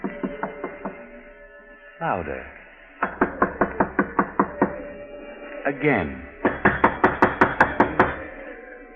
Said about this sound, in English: Knock, George. Knock.